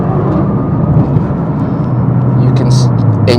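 A 2008 Nissan GT-R Black Edition accelerating, its engine giving a steady, deep rising drone heard from inside the cabin, with someone talking over it.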